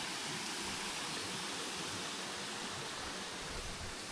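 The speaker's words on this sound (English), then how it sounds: "there's a pretty waterfall and river running by it." Waterfall and river beside a hiking trail in Nara Park, Japan, a steady broadband rush of falling and flowing water, loud and continuous throughout with no voices.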